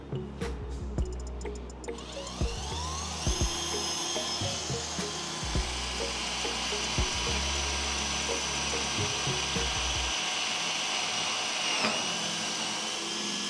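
An Ingco CIDLI20012 cordless drill bores a hole through metal, its motor whining steadily and close for about ten seconds before it stops. A fainter hum continues afterward.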